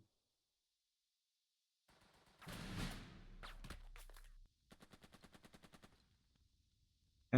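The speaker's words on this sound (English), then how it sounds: "And the MG squad can also shoot." Machine gun squad firing in Burden of Command, a World War II tactical game: a loud burst of gunfire, a few sharp single shots, then a rapid rhythmic volley of about a dozen evenly spaced rounds, all alone without talk.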